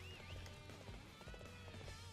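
Galloping horse hooves in the video game Dynasty Warriors 8, a steady rapid clip-clop running under dense battle music and game effects, with a brief whinny-like tone early on.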